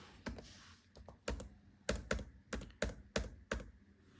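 Keystrokes on a computer keyboard while entering an example in Tally ERP9, about ten distinct clicks in an uneven rhythm, close and fairly quiet with no talk.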